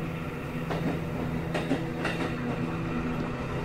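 A subway train runs underground with a steady low rumble and faint rhythmic clatter of wheels on rails, interrupted by a few brief higher squeaks.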